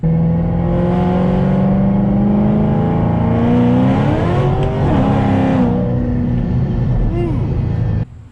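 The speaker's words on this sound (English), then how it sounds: "Can spin the tires on demand." A 2007-2009 Shelby GT500 muscle car engine revs loudly and steadily, pitch rising and falling, with a tire-spinning roar throughout before cutting off sharply at the end.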